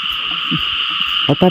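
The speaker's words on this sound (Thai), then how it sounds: "เสียงกบเสียงเขียดพี่น้องเอ้ย" Frogs croak from a wet field at night over a steady, loud insect-like drone, with a few low throaty calls early on and two sharp, clear croaks close by near the end.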